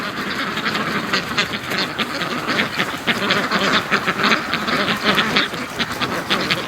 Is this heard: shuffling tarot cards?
no